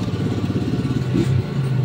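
An Astron washing machine motor, with a fault that needs a push by hand to start, spins with a steady, close mechanical hum that pulses slightly in a workshop repair setting.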